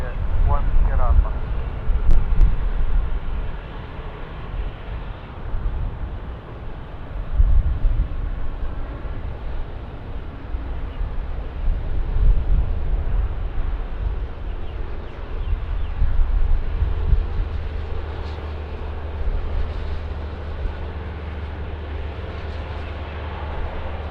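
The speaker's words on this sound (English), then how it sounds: "Etihad 10 Alpha, runway 16 right, clear for takeoff." Etihad passenger jet taking off from runway 16 right at Sydney Airport, a broad sustained engine roar with deep rumble, fairly loud and steady throughout, with radio voices talking over it.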